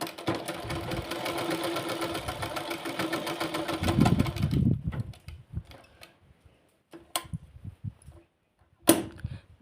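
A sewing machine runs steadily for about four and a half seconds while stitching a hook strip on fabric, then stops, leaving a few faint handling clicks and short taps.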